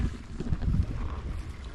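Wind gusts on a solo sailboat cruising at about 2.5 knots on a starboard tack toward Catalina Harbor. A soft, steady low rush of air and wind buffeting swells briefly and then settles.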